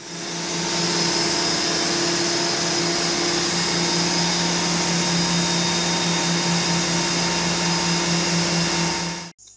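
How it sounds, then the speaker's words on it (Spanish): Ventilation fans run in a boat's engine room, a loud, steady whirring drone with a constant tonal hum, unbroken for about nine seconds before cutting off abruptly, with no talking. "es importante verificar que los ventiladores del barco están funcionando y que la cámara está ventilada"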